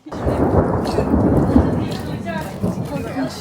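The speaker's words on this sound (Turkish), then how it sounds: "Havanın gök gürültüsünü duydunuz mu?" Loud, close thunder rumbles through a heavy rainstorm, a continuous low roll over the steady hiss of falling rain.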